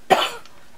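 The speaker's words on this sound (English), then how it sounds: "Sorry about the cough." A single sharp cough, close and loud, that quickly fades into quiet.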